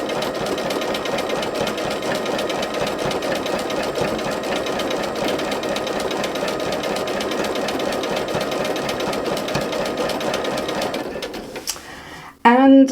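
A sewing machine running steadily and loudly at a fast, even needle rhythm for free machine stitching, then stopping abruptly, with a brief voice at the end.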